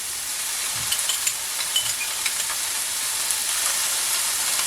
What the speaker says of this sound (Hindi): अब इसको भी थोड़ा सा हम भून लेंगे।